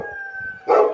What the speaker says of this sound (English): Oh, there's a dog. There's 2 dogs.